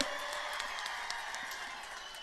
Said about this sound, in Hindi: सीपीआरएम के नेता श्री आरबी राय साहब के लिए ताली बजाइए।